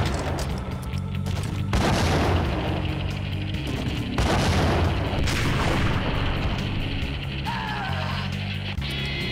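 Heavy booms and blasts from grenade launcher explosions in Max Payne, loud and continuous with several strong impacts and rumbling gunfire throughout.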